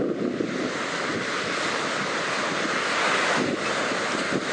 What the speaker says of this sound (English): And that's some big waves out there crashing.